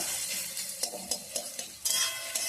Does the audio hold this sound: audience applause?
no